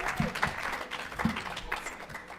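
Applause from a church congregation at a Sunday service, following a musical Broadway-style performance: a short burst of moderately loud clapping with a few sharper claps standing out.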